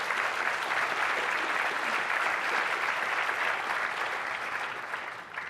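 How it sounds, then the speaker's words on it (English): Audience applause for a developer panel at a conference session, broad even clapping from a large crowd that holds steady and then thins slightly toward the end. "if you would please join me in giving these guys a round of applause"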